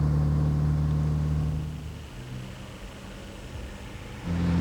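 A 1954 Austin-Healey built by Donald Healey, its four-cylinder 2.6-litre engine taken from an old Austin saloon, hums with a steady low drone that eases off partway through and swells again at the end.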